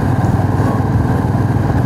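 Loud, close motorcycle engines droning steadily as a group of bikers rides past on a Sunday ride out of Mumbai, with no talking over the noise.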